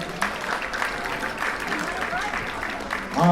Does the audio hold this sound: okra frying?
no